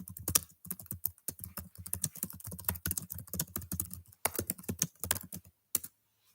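Rapid keystrokes on a computer keyboard, close and crisp, typed in quick uneven bursts with short pauses, then stopping near the end.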